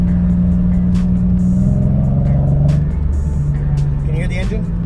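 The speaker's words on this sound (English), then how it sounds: "Can you hear the engine?" A steady, loud engine of a Nissan 350Z drones throughout, heard from inside while driving with road rumble, while a person talks over it.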